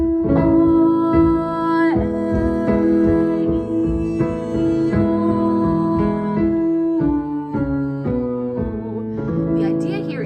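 A singer works through a breath-support vowel warm-up on ah, eh, e, o and oo, sustaining clear pitched notes that step through a sequence with a steady tone, close and alone.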